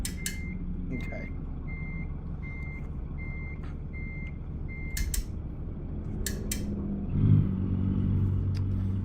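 Reversing beeps from a Kenworth truck in American Truck Simulator, a steady evenly spaced series of electronic tones over a low diesel engine rumble, with a few clicks and the engine swelling near the end.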